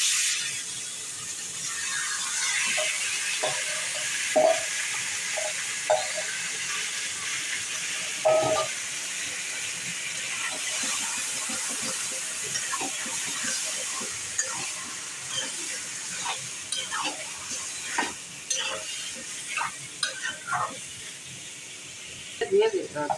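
Mutton pieces hit a hot pan of oil and fat for a thin mutton curry with potatoes, raising a loud continuous hiss with scattered sharp pops that ease slightly toward the end.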